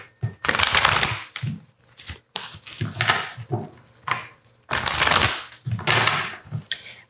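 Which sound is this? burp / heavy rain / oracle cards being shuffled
oracle cards being shuffled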